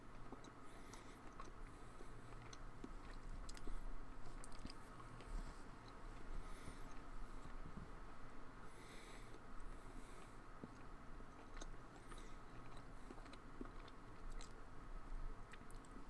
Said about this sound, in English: Sorry if you guys can hear me chewing this beef jerky.